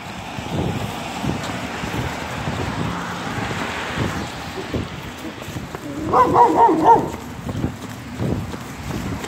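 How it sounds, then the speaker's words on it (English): A single dog barks a short burst of a few yaps in the distance, heard outdoors during a jog over heavy wind noise against the microphone. "There it is, another dog."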